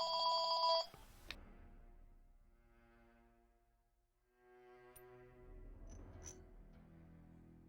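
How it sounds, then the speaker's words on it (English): A phone rings briefly with a bright electronic trill at the start, close and clear, then cuts off into quiet low game ambience with faint tonal sounds. "apparently I was not getting a phone call, and I just misunderstood a ringing phone"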